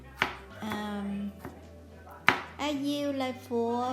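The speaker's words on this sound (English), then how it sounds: "First I mince the garlic." A knife chops garlic cloves on a cutting board with a few sharp, distinct thuds spaced apart, heard close up under a person talking.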